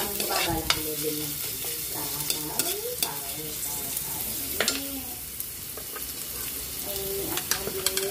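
Garlic sautés in a pan as the base for pork kaldereta. A soft, steady sizzle runs throughout, broken by repeated scraping and clinking stir strokes from a utensil against the pan.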